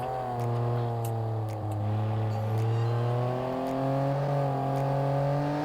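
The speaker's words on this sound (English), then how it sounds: "this engine sounds so beastie" An executive car's engine revs while driving, with a smooth humming drone that rises and falls in pitch as the car accelerates and eases off, close and continuous with no one speaking.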